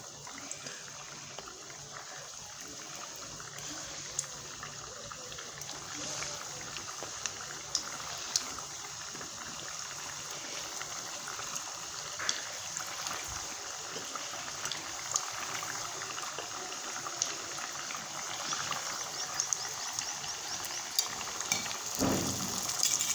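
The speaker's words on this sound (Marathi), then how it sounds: "आता आपण दुसऱ्या पण टाकून तळून घेऊत" Sesame tilori sweets frying in hot oil give a steady, soft bubbling sizzle with faint crackles and pops throughout, close but low in level, with no talking.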